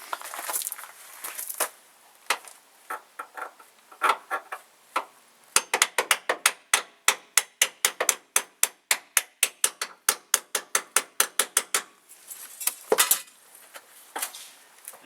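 Repeated sharp metallic strikes of a hammer on an old bolt used as a makeshift punch, driving out the hinge pin of a Honda Civic front door; a few scattered taps, then a fast steady run of about thirty ringing blows, then a few more.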